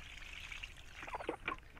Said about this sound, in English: and then we'll add some water